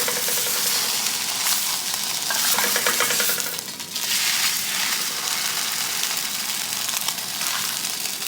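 Korean street toast frying in a pan, a loud, close, crackling sizzle that carries on throughout, swelling and easing slightly around a brief dip partway through.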